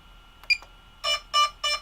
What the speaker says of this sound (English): let's see if there's the beep